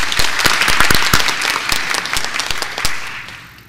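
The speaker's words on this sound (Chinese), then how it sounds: "我们请大家热烈掌声欢迎他们" A short burst of applause fills a city council chamber during a Kaohsiung council session as visiting university teachers and students are welcomed; dense clapping from many hands that fades out over a few seconds.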